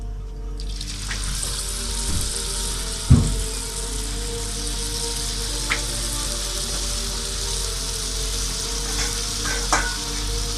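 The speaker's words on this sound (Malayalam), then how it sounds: "ചെറിയ ചെറിയ പീസാക്കിയിട്ട് നമുക്ക് എണ്ണയിലിടാം" Small pieces of sweet carrot pakoda batter sizzle in hot oil, a steady crackling hiss punctuated by a few sharper splashes and clinks as pieces drop into the pan.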